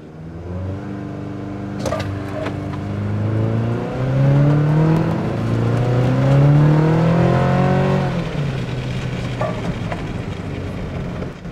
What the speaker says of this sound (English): It'll stop at about 3000 RPM, flash at you, and you are ready to launch